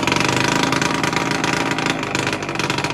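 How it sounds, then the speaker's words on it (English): A small engine idling steadily after a jump start, a loud, close, rough mechanical drone with a fast even pulse that holds throughout with no talk. "Fired up with no problems. I let it idle for a little bit."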